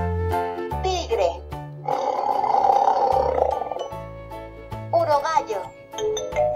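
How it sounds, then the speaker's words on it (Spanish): A cartoonish tiger roar from a children's picture book, a long loud growling roar in the middle, set among bright musical tones and playful sound effects. "Tigre."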